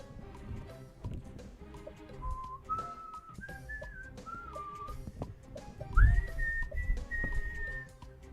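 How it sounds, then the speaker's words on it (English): A person whistles a slow, wavering melody of held notes and slides, close up, over faint background clatter and a brief thump. "Was I whistling the correct tune?"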